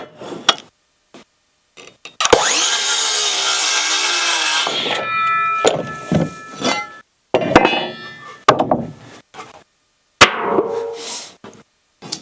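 Rhythmic saw strokes cut through a poplar wood board, followed by scraping and knocking of the board being handled, close and fairly loud with brief pauses.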